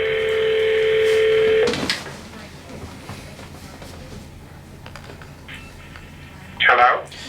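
Telephone keypad tones beep in a quick, loud run for nearly two seconds, then give way to quiet room hiss with a faint rustle and a brief burst of noise near the end.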